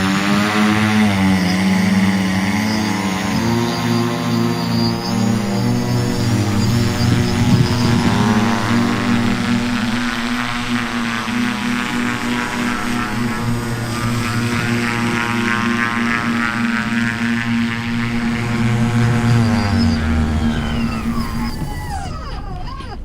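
A propeller engine on a cardboard airplane drones steadily and loudly close by, its pitch rising and falling slightly before cutting off near the end.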